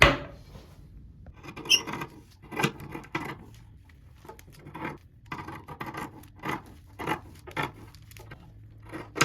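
Scissors cutting off the fabric sides of a pants pocket, a series of close, crisp snips and rasping rubs coming in irregular bursts with short pauses between, no talking.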